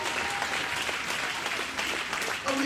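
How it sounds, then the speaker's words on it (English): A church congregation claps during a sermon, producing a dense, steady patter of applause for a few seconds with no break. "Go ahead and clap a little bit if that's you."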